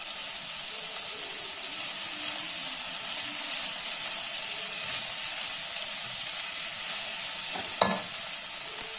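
Cumin and ginger sautéing in a hot pan for an eggplant curry: a steady, close sizzle and hiss that runs the whole time, with faint stirring scrapes and one brief clatter near the end.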